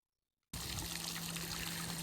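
Water trickles and splashes steadily into a garden pond being filled, starting abruptly after a short silence and then running as a constant close stream.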